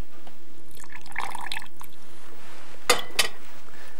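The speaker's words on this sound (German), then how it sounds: "Und dann presse ich etwas Limonensaft." Lime juice squeezed by hand into a bowl in a kitchen, soft close squishing followed by two distinct drips of liquid.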